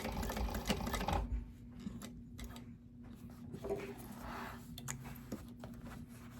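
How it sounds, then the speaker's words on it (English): Home sewing machine running a short back stitch to anchor thread on garment fabric, a quiet rapid mechanical clatter that starts loud then continues softer and uneven, with no voices. "I'm just going to do one little back stitch just to anchor my thread that I just started sewing with"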